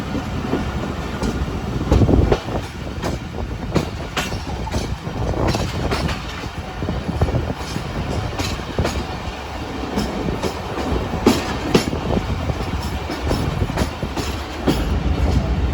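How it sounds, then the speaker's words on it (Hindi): Freight train with container wagons rolling along the rails at a station, a steady loud rumble with irregular clicks and clatter of wheels over rail joints throughout, no voices. "गुड्स ट्रेन जाती है।"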